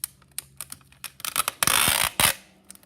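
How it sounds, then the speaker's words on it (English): Thick packing tape is pulled and pressed onto a plastic zipper sensory bag in quick crackling bursts. Two long, loud peeling rips stand out near the end. "I'm using this thick packing tape."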